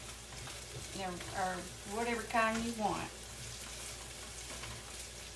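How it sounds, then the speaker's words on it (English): Chopped garlic sizzles steadily in a hot pan for a pork chop and potato meal, a constant frying hiss running under a person's voice speaking nearby. "now we are going to put in our chopped up garlic"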